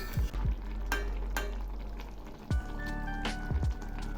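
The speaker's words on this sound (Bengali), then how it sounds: "এগুলি আর একটু ফুটবে।" Palong shak, a vegetarian spinach curry, simmers in a pan while a spoon stirs it, giving soft bubbling and sizzling with a few scraping stir strokes and clinks up close.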